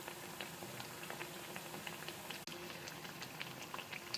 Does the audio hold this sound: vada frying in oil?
yes